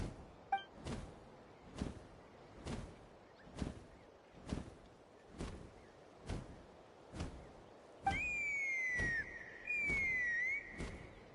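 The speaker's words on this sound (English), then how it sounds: "That sounded like a whistle." A whistle blown to summon a creature: two long sliding, warbling tones ring out near the end, following a regular series of soft whooshing beats like wingflaps.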